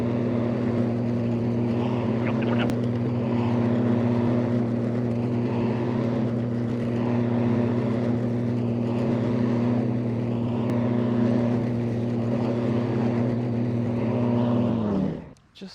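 The deck spindles and blades of an electric zero-turn mower spin with a steady, loud droning hum that holds evenly, then cuts off abruptly at the end.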